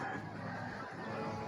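A male duck calling nearby, giving short nasal, honking quacks over steady outdoor background noise.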